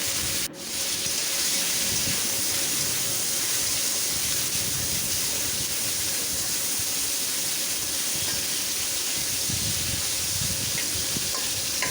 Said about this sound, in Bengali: কড়াইতে দিয়ে দিলাম সয়াবিন তেল। এখন মাছগুলো ভেজে নেব।